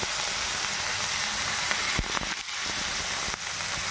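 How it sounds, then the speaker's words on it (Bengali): Fish fry in hot mustard oil in a frying pan, making a loud, even hiss with a few sharper crackles and spatters partway through. "তেলটা গরম হয়ে গেছে, আমরা সর্ষের তেল দিয়েছিলাম ফ্রাইং প্যানে। এবার আমরা মাছগুলো দিয়ে দেবো"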